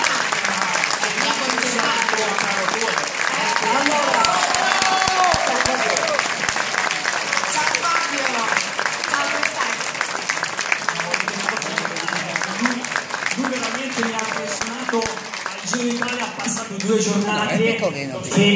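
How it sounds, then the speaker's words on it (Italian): A large crowd claps and cheers continuously as Italian cyclists enter the stage at Pinerolo, with an announcer talking over the sustained applause. "Un grande applauso a Fabio Aru"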